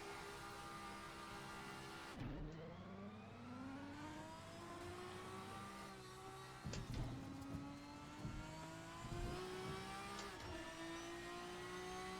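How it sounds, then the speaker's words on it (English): A high-revving V12 race car engine in the Assetto Corsa sim on the Bristol oval screams upward through the gears, with three distinct shifts and a steady, loud whine between them. "It's a V12, so it's noisy."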